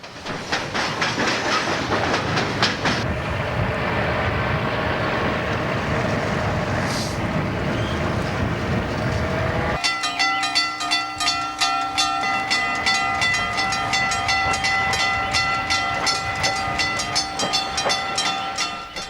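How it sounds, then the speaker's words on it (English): A Detroit Toledo and Ironton freight train rolls past near a junction under an overpass, a loud continuous rumble with rhythmic clickety-clack of wheels and ringing metallic tones from the cars, close and sustained. "The train is passing under the C&O overpass and is heading for the N&W DT&I junction."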